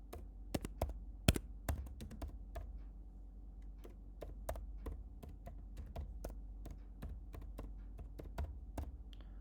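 Rapid typing on a computer keyboard, with irregular bursts of crisp key clicks in a quiet room, close and fairly faint, with no talking.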